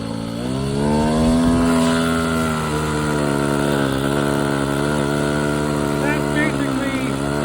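A tiny glow-fuel engine on an RC Vintage Cub model airplane screams at full throttle, a steady high-pitched buzz with a strong harmonic whine that holds close and loud throughout.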